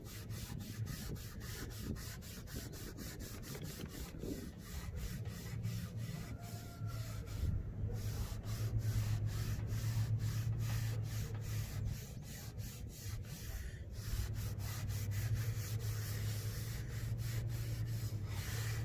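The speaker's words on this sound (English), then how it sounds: "For buffing, you're going to use a lint-free cloth." Lint-free cloth buffing an oiled wooden cutting board, giving a steady, continuous rubbing and scrubbing sound with rhythmic strokes, close and fairly loud throughout.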